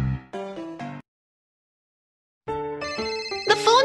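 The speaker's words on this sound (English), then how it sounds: "The phone's ringing." A cartoon-style telephone rings with a bright musical ringtone, a short melodic burst, a pause of silence, then a longer, rising melodic phrase, close and clear.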